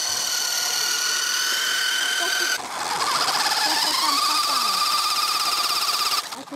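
A toy BMW monster truck's electric motor drives on sand, giving a steady high, whiny buzz with shifting pitch that pauses briefly midway, then continues loud and close throughout.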